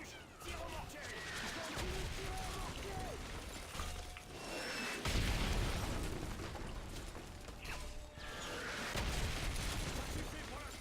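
Mortar explosions in the video game Modern Warfare 3, repeated heavy bursts and crashing blasts among gunfire and mechanical clatter, fairly quiet overall, with voices talking over the action.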